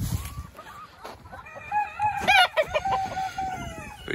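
Two roosters among Polish and Silkie chickens, frizzle and smooth, crowing close by in a winter pen, one clear crow rising midway, with scattered clucks around it.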